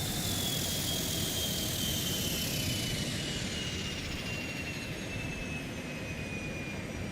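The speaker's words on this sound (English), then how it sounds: "Listen to the sound of these engines" Twin turboprop engines of a King Air C90B in X-Plane winding down after fuel cutoff, a steady loud broadband roar with a whine that slowly falls in pitch over several seconds.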